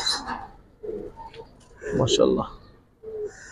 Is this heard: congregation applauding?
no